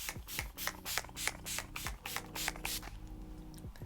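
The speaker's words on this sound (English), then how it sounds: "It is the best setting spray. Urban Decay Nighter." Urban Decay Nighter setting spray is pumped in a quick run of about ten close, crisp hissing bursts, evenly rhythmic and loud, ending in a brief quiet tail.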